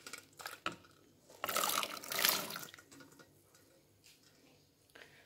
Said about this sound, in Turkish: Bunları alıp hazırladığım soğuk suyun içine atacağım.